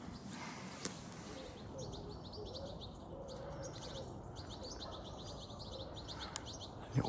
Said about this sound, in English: Little birds up in the tree there.